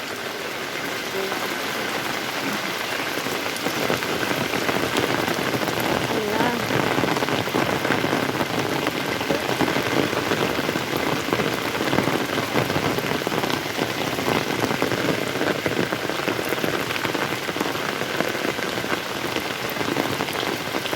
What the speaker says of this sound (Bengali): কি বৃষ্টি পড়তেছে